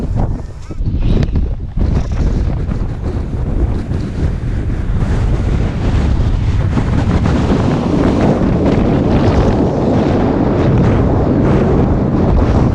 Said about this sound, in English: little bit blowy up here now